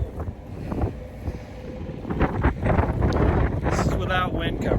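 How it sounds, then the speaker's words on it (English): Blizzard wind batters a microphone outdoors beside a loaded semi-truck trailer, a loud, constant roaring buffet with gusts, while a person speaks beneath it. "I'll show you guys what happens when I step out from wind cover."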